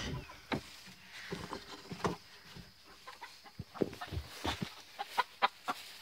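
Chickens clucking close by in their run, a series of short irregular clucks and scratchy rustles over a quiet outdoor background, no voices.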